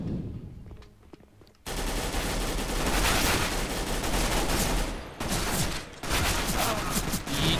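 Rapid sustained automatic fire from a Galil AR assault rifle in Counter-Strike: GO, loud and close, in long bursts with short breaks between them.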